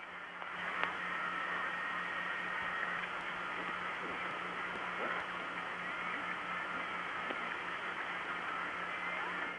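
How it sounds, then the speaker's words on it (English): Steady hiss of an old long-distance phone line, with a faint hum and tones beneath, and occasional tiny clicks and chirps. "This is one example of the sound of long distance."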